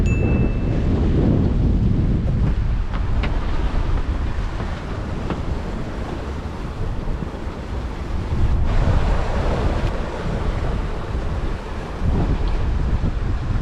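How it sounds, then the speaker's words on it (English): A sailing boat rushes through the sea off the Isle of Arran toward Campbeltown in 25-26 knot winds, with a continuous close roar of wind buffeting the microphone and waves and surf washing past the hull. "And this is us whizzing through the sea"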